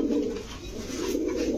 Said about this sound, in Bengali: অরিজিনাল কাশ্মীরি রেসার না?